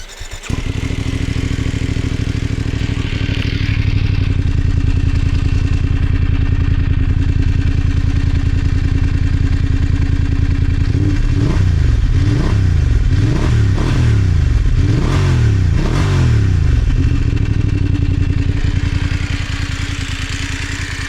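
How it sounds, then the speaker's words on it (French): A Voge 900 DSX motorcycle engine idling steadily up close, then revved several times in quick blips midway before settling back to a metallic idle. "je t'ai pas fait écouter le bruit du moteur"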